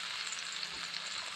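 Ground spice paste with garlic frying in hot oil for a dried-fish dish, a steady close crackling sizzle with a faint stir, no voices.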